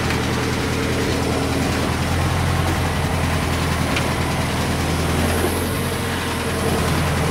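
A custom vehicle called the Thing, at a rod and custom shop, idles before a ride with a steady, even, low engine rumble and constant mechanical noise throughout.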